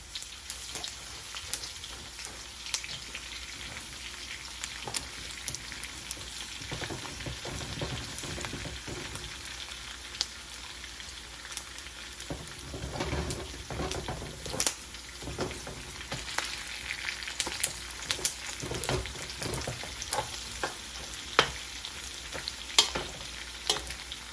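Pork and garlic fry in a pan for pancit bihon, a continuous close sizzle broken by frequent scraping and clattering stirring strokes, with no talking.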